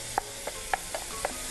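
Minced meat fries with onion and garlic in a pan. Faint sizzling sits under a handful of light, sharp clicks from stirring, all at low volume.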